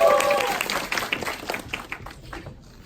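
Audience members clap for a speaker at a business leadership gathering, starting as a burst of applause that quickly thins into scattered individual claps and fades out within a few seconds, with a brief voice at the very start.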